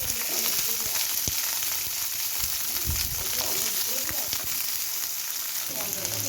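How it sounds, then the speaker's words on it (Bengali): Washed, drained hog plum pieces frying in a frying pan with dried red chilli tempering in oil, a steady close sizzle with occasional crackles and soft stirring scrapes throughout. "কেটে রাখা আমড়াগুলি ধুয়ে নিয়ে জল ঝরিয়ে ফ্রাইং প্যানের মধ্যে দিয়ে দেবো"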